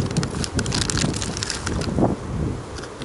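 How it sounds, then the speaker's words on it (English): Gusting wind buffets the microphone in loud, rough bursts of rumble and hiss throughout, with no voices. "Kind of windy there for a minute."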